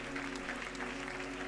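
Church congregation clapping and acclaiming during a sermon, a continuous, fairly faint wash of applause over a steady low hum.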